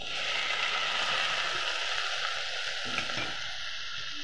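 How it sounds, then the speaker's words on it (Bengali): Prawns hit a pan of browned onions with a steady, close sizzle of frying oil that holds constant with no voices over it. "চিংড়ি মাছটা পেঁয়াজ লাল হয়ে গেছে, এবার দিয়ে দেবো।"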